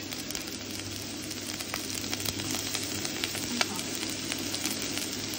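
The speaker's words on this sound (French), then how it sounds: "De là, je mets l'oignon." Onion frying in fat in a pan, a constant close hiss and crackle of sizzling that holds steady for several seconds, with no voices over it.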